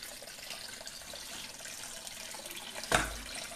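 Rainwater from heavy rain runs and gushes at a steady low level near a culvert-side hillside home, with a brief louder splash near the end.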